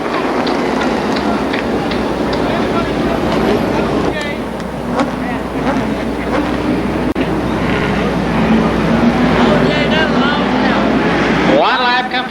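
Modified race cars run at Columbus Motor Speedway, their engines roaring loud and continuous with rising and falling pitch as they pass, while a commentator talks over the noise.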